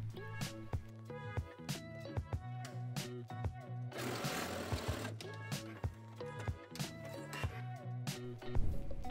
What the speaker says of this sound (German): Und diese kurze Kante, die müssen wir jetzt einmal aufeinander nähen.